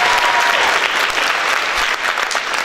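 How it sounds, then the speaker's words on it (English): Loud, dense applause from a crowd at a Texas A&M rally held at Duncanville High School, honoring the school's principal; continuous and close, with scattered cheering voices mixed into the clapping. "so give a round of applause for that."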